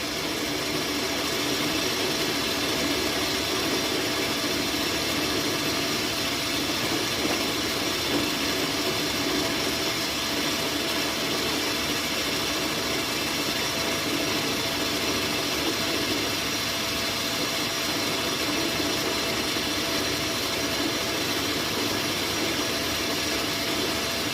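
Steady, continuous machining noise from a finishing cut inside a bore on a 5-inch gauge locomotive part, a dense, even hum and whir that runs unbroken throughout with no talking.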